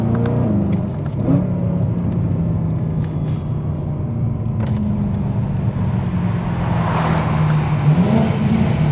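A BMW E92 M3 engine rumbles loudly and steadily up close, its pitch rising and falling as it revs, with the drone of driving underneath.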